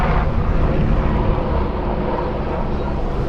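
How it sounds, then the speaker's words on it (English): A medical air ambulance helicopter passes overhead near the Washington, DC riverfront, a steady loud rotor and engine roar filling the whole clip with no talk. "Oh, helicopter coming right over our head."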